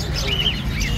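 Small caged birds chirp at a busy pet bird market, bright short tweets close by over a low murmur of market noise.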